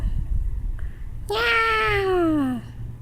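A single drawn-out cat meow, close and clear, rising then sliding down in pitch over about a second, set against a low steady background hum.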